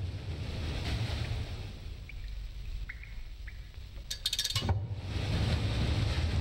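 Rising water in the Limbo video game, a steady low rushing and surging wash with a brief bright splashy burst near the end, no speech.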